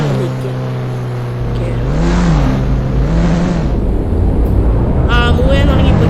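Cars in a racing video game rev at the start line: a loud, steady engine drone whose pitch swoops up and down, with brief higher whines.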